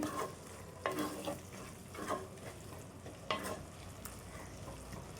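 Egg omelette curry with chilli powder being stirred in a pan on medium flame, a spoon scraping in a few separate strokes over a steady low sizzle, close and moderately quiet, with no talk.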